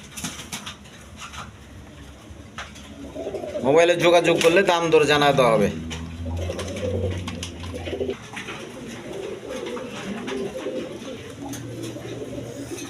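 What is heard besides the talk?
pigeons cooing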